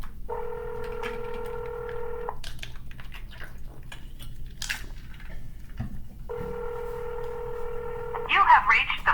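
Two sustained telephone dialing or ringback tones, each lasting about two seconds and separated by a gap, sounding over quiet background noise during a real estate cold call, followed by a short clatter near the end.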